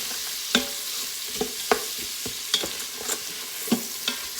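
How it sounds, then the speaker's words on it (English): Yellow onions stirred and sautéed in an Instant Pot, with a close, steady sizzle and a regular series of sharp clicks and scrapes as the spoon moves through the pot. "we're just going to stir those around in there a little bit, get them to sauteing and getting soft."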